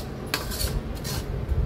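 A spoon scrapes and clatters in a pan as besan and ghee roast over low heat for laddoos, close-up stirring strokes with a low rumbling background.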